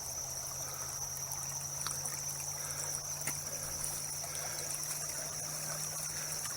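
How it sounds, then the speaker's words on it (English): Water trickles steadily out of a garden pool past a ram pump intake pipe, a soft continuous flow heard alone at low level, with a faint steady hum and occasional small clicks in the background. "I can see how fast the water is going out of this pool"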